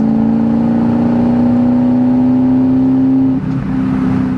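A one-owner 2002 Ford Mustang Saleen pulls hard in fourth gear, its loud engine drone climbing slowly and steadily in pitch from inside the car before a brief dip near the end.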